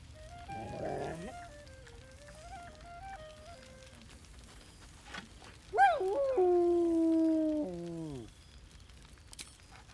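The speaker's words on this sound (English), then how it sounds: "Scratch barks merrily in something like agreement." A dog in the video game Baldur's Gate 3 gives a short whine followed by a loud, drawn-out howling bark, heard alone against quiet game ambience with a brief faint tone earlier.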